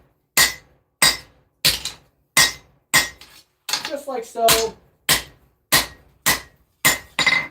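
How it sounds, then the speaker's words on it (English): A blacksmith hammers hot steel while forging a battle axe, striking about a dozen loud, evenly spaced ringing blows, with a brief burst of speech and clatter partway through. "I'm just going to forge it out some more"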